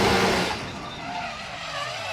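Drift cars at a competition on Ebisu Circuit West Course in Fukushima, with loud engine roar and tire squeal that swell at the start and then settle into a sustained, slightly quieter drone, with commentary faintly present.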